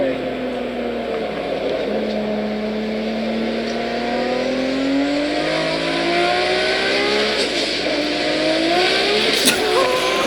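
Toyota Supra engine revving hard through gears, a loud sustained rising and falling drone with shifts, heard from inside or nearby with wind and road noise.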